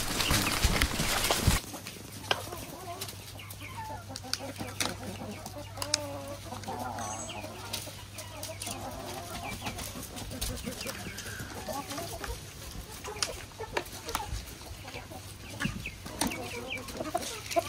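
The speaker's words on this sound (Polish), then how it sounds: "To jest kwoka?" Brahma hens cluck softly in a poultry yard among ornamental fowl, a steady low murmur of clucks and rustling with occasional sharp knocks, while people talk nearby.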